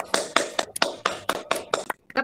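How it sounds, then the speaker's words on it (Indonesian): Sharp, separate handclaps from webinar participants, about nine distinct claps in a loose, irregular rhythm with brief gaps, close and crisp with no voices over them. "Berikan aplaus untuk mereka berlima Bapak Ibu"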